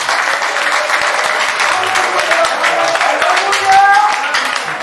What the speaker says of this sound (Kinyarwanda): mureke dukomere Imana amashyi.